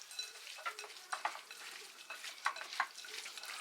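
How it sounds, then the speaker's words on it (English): Gloved hand mixing Cajun seasoning into raw prawns, soft wet squelching and slippery rubbing in quick irregular bursts, close and quiet. "I'm just gonna mix all of our seasoning in these prawns."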